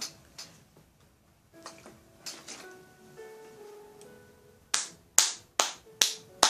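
A handful of sharp hand claps close by, spaced about half a second apart, following quieter scattered taps and faint tonal sounds.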